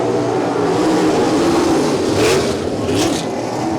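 Sprint cars in a heat race at Champaign Speedway roaring off turn four, a dense, loud pack of engines with rising and falling revs as cars pass close by.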